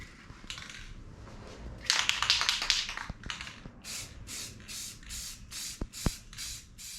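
Clear coat is sprayed onto a carbon fiber wing in a series of short hissing bursts, a longer blast followed by evenly spaced regular pulses, with a few light taps between them.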